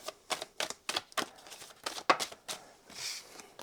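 Quick, crisp papery flicks and slaps in an uneven rhythm as tarot cards are shuffled and dropped onto a surface, close and fairly soft.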